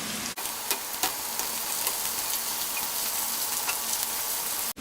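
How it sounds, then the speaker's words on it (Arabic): Skin-on chicken thighs fry in a hot pan with onions, giving a steady, close sizzle with crackling pops throughout and a brief break near the start. "هبدأ احط افخاذ الدجاج"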